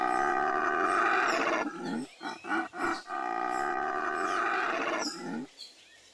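A monkey call from the Nature Maestro rainforest app, with long loud guttural howling roars that break into choppy grunts midway and then resume before fading out.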